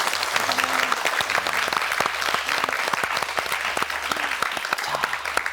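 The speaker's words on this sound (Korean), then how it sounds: "어머님께 감사의 박수 먼저 한번 드립니다." Studio audience applause on a Korean talk show, dense rhythmic clapping from many hands, loud and continuous throughout, with a faint low hum underneath.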